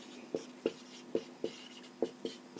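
Chalk or marker strokes on a classroom board during a physics lesson: about seven short, sharp taps and scratches in an uneven rhythm, close and moderately loud over a steady low hum, with no talking.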